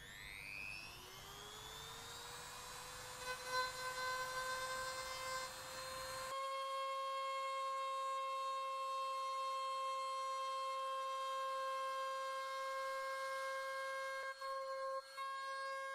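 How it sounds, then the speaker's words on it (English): Dremel rotary tool opening up holes in a kayak hull, a high-pitched whine that spins up over a few seconds and then holds a steady tone for a long stretch. "I need to take a Dremel. I need to just open these up a little bit"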